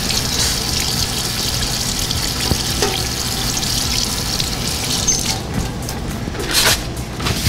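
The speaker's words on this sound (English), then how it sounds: "Always make sure you wash your hands." Tap water runs steadily into a sink during handwashing, a constant close gush with faint clatter and no speech over it.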